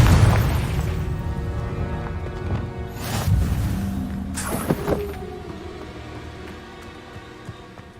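A Confringo fire spell explodes in Hogwarts Legacy, a couple of sharp booming bursts that decay into crackling rumble, fairly loud and close, with no talking.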